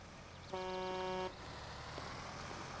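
A car horn honks in a city street in the video game L.A. Noire, one steady blare lasting under a second over low traffic rumble, with no talk.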